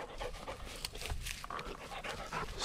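A duck-hunting dog pants steadily after finding water, its quick breaths close by with faint whimpers mixed in and no talking.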